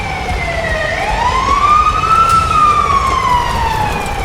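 An animated cartoon fire truck siren sounds as the truck arrives, one loud, steady electronic wail that dips and then sweeps up and back down again, with no other sounds.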